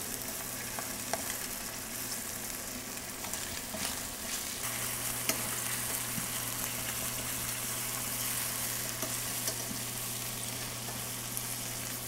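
Pork chops searing in hot oil in a pan give off a steady, dense sizzle that stays close and even throughout, with a low hum underneath and no talking.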